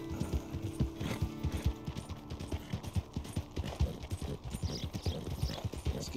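Steady clip-clop of horse hooves as a rider travels in Red Dead Redemption 2, a quick regular gait heard fairly close over a soft ambient bed.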